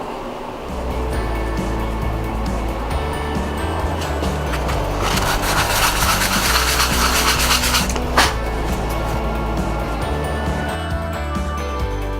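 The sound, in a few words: sanding a wooden piece before clear coat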